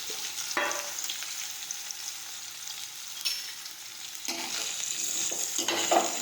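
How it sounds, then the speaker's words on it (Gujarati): Mustard seeds and cumin sizzle in hot oil for a spiny gourd (kantola) curry, giving a steady crackling fry punctuated by a few scraping stirs in the pan. "હવે આપણું તેલ છે તે ગરમ થઈ ગયું છે. હવે આપણે તેમાં રાઈ અને જીરું નાખીશું."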